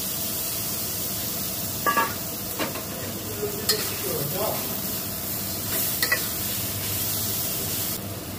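Hilsa fish heads fry in a pan with an even, close sizzle, a few louder spits and scraping stirs rising above it, and a voice speaking briefly in the background.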